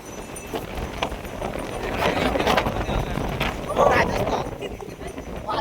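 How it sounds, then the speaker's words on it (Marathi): Strong wind at Guhagar rushes and buffets the microphone in a steady, loud broadband roar that swells around the middle and near the end. "वातावरण बघा आणि जोरात इथं वारा सुटलाय"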